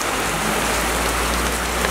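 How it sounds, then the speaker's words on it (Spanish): Fine hail and rain come down in Cajamarca as a constant, close, rushing patter on hard surfaces, brief and uninterrupted, with no one talking. "Cae granizo, pero chiquitito, por eso no se puede apreciar mejor."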